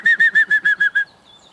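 A green woodpecker gives its laughing call: a rapid run of seven clear, evenly spaced whistled notes, loud and close, falling slightly in pitch before stopping into near silence.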